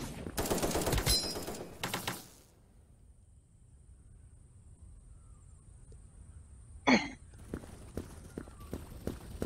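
Gunshots in the browser shooter Krunker, a rapid burst of loud shots at the start, then quiet with faint steps, a single sharp shot later and a few lighter taps near the end.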